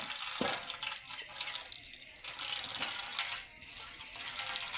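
Carrots for halwa are washed in water, making faint splashing and sloshing with scattered light clinks and knocks, without any talk.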